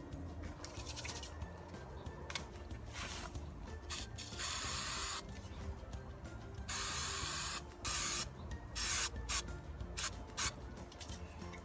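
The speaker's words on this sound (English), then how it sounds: "Now we're gonna spray the back of the sandpaper with a spray adhesive" Spray adhesive hisses from an aerosol can onto the back of sandpaper and a PVC pipe outdoors. Several short and long bursts come close and fairly loud, separated by quiet handling noise.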